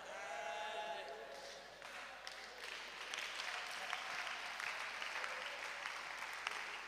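A woman, Mrs. Ansor, claps in a church service as part of a group, a sustained round of applause with a voice bleating a tone at the start and talk underneath.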